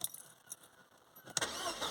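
A Mercedes CLK200 with a battery-drain fault, key turned in the ignition: quiet faint ticks and clicks, then the engine abruptly cranks and catches, settling into a loud, close, steady running roar for the last half second.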